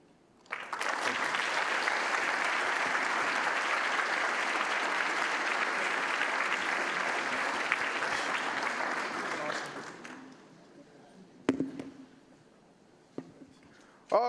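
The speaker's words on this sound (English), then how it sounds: "Give them another round of applause." An audience at a demo day event breaks into sustained, full applause for about ten seconds, then it fades out, leaving a couple of isolated knocks and a sound that starts again at the very end.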